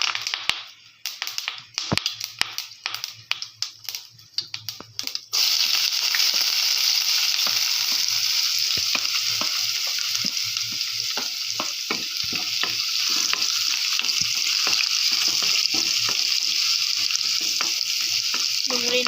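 Onions frying in hot oil with asafoetida and curry leaves, opening with a few sharp clatters and stirring taps before a loud, continuous sizzle bursts in and keeps going, broken by scraping stirs.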